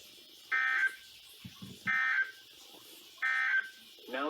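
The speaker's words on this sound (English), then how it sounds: "This concludes the test of the NOAA Weather Radio warning alarm device." A NOAA Weather Radio warning alarm device sounds during a weekly test: three short, loud electronic tone bursts evenly spaced about a second and a half apart, with brief muffled voice fragments between them.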